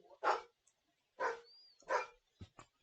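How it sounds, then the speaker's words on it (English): Several dogs bark in short separate yaps, about four clear barks spaced unevenly, moderately close, alone in an otherwise quiet indoor room. "Pardon the dogs."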